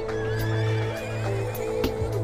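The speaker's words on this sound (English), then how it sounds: "And they make horse sounds. Oh no, there's a horse. A wild horse." A wild horse in a city-building video game whinnies in a long, wavering neigh close up, with light hoof clops and game ambience beneath and no talking.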